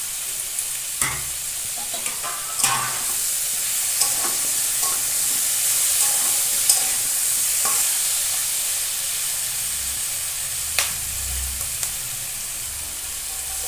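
Pumpkin and fish curry with green chillies is sautéed in a pan, giving a steady, close hiss of sizzling oil with occasional scraping stirs and light taps of the utensil.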